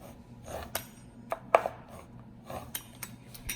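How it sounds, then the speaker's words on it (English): Knife slicing a sheet of lavash bread into small chip-sized pieces on a cutting board, giving soft scattered taps and scrapes with a few sharper knocks against the board, close and fairly quiet. "all I'm gonna do is cut this piece of lavash down into small pieces that are gonna resemble chips"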